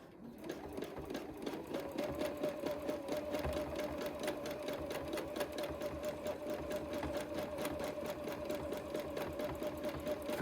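A sewing machine stitching free-motion quilting runs continuously at a fast, even pace, its needle producing a steady rapid mechanical chatter with a faint hum underneath, close but fairly quiet with no talking.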